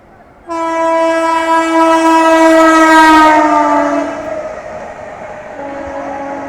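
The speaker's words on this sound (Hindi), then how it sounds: "दोस्तों सामने से आ रही है 12878 नई दिल्ली से चलकर रांची जाने वाली गरीब रथ एक्सप्रेस" The Garib Rath Express, a New Delhi to Ranchi train passing at night, sounds a long, loud, steady horn blast that begins abruptly and shifts in pitch as it goes by, then a second shorter blast, over train rumble.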